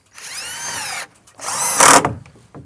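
A power drill drives wide-head screws into a roof bracket in two bursts, a rising whine for about a second, a short pause, then a louder, harsher second run that tapers off.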